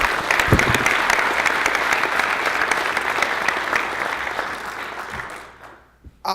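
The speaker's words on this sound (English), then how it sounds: "How about another round of applause for everybody who was recognized today?" A room full of people at an awards luncheon claps steadily and loudly for several seconds, then the applause thins and fades out.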